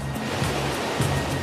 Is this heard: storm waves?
yes